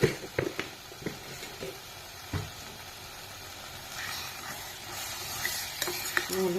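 Fish curry with jackfruit seeds frying and stirred in a pan, a steady soft sizzle broken by scattered scraping clicks of the spatula against the pan, close by, no talking.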